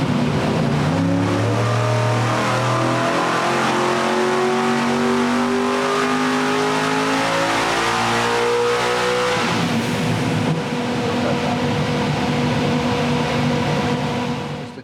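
A Hemi streamliner engine on a dyno revs to 8,000 RPM, with a loud rising wail that climbs steadily through the gear, drops sharply, then holds a steady roar close by.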